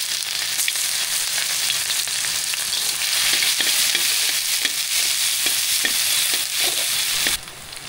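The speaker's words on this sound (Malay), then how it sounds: "Kita gorengkan bahan-bahan dia tadi ya." Steady loud sizzling of ingredients frying in a hot wok, with occasional scraping stirs, no talking.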